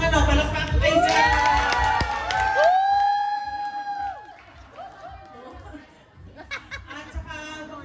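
Bakery and restaurant staff at a Christmas party cheer and whoop loudly, with rising shouted voices and laughter over a crowd murmur. The noise then fades into softer chatter with a few scattered sounds.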